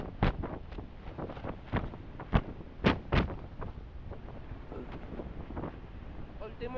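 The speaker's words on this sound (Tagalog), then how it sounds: "Sobrang lakas ng hangin." Very strong wind blowing hard outdoors during a storm, roaring as a steady rush with sharp, loud gusts buffeting the microphone at close range, no other clear sounds standing out.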